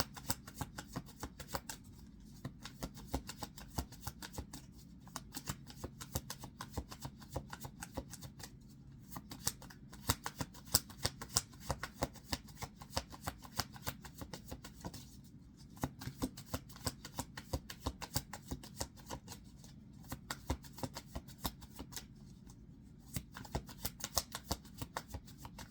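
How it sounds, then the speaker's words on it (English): Tarot cards shuffled and handled in repeated bursts of soft riffling and flicking, close and quiet, with short pauses between rounds and no speech. "I'm just going to pull these cards away."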